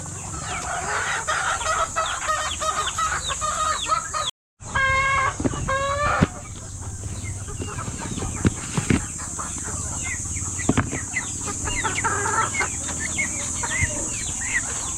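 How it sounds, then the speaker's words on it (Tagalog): Domestic chickens, including a rooster, cluck steadily and close by throughout, with occasional crowing and farmyard chatter, at a backyard feeding of caged poultry. "So ganyan lang yung papakain ko ng mga manok."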